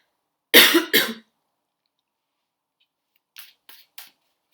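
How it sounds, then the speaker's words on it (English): Two sharp, close coughs in quick succession, then near silence broken by a few faint clicks. "One big cough."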